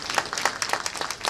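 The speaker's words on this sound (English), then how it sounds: "Let's give him a round of applause." Applause from an audience at a business college event honoring a dean, a steady patter of many hands clapping at close range for just over a second.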